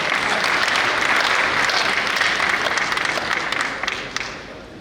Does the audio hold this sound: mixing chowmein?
no